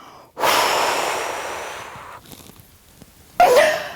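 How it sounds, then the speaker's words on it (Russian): A strong, loud breath drawn in through the nose during a slimming breathing exercise, followed by a long exhale and a quieter pause, then a second sharp intake of breath. "вдыхаю носом сильно-сильно и полный живот, потом выдыхаю"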